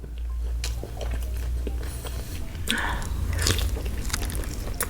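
Crunchy bites into crispy Bonchon fried chicken with honey gochujang flavor, close and fairly loud, with a burst of crackling crunch midway and continuous chewing under a low background hum.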